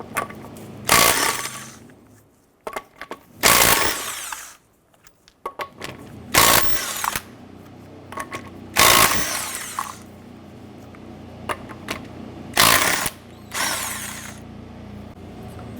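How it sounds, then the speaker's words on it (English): A power tool with a 19mm socket spins lug nuts off a 2006-2013 Chevrolet Impala wheel in loud, whirring bursts of one to two seconds each, about six in all, separated by quiet pauses and small clanks. "let's remove the lug nuts."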